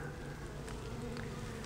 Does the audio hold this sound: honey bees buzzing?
yes